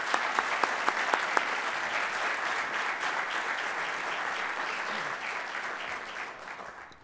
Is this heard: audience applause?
yes